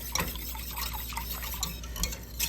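A whisk stirring golden milk with turmeric in a pan on a medium-low burner, producing quick, light liquid swishes and faint ticking taps against the pan, close and steady.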